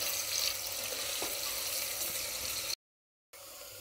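Sliced onions frying in a pan, a steady broadband sizzle that holds for nearly three seconds, cuts out briefly, then resumes at similar strength; close and loud, with no talk.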